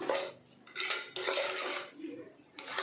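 Rice and vegetables for a pulao being sautéed in oil in a metal pot, a utensil scraping and clinking against the pot in several close, bright bursts separated by short quieter gaps.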